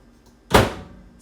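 A microwave oven door shuts in a home kitchen with a single solid thunk up close, then a short fading rattle in an otherwise quiet room.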